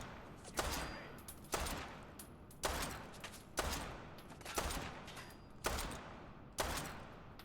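Rifle fire in Fallout 4 during hardcore exploration: six or seven loud, sharp shots spaced about a second apart, each with a short echoing tail, over steady background noise.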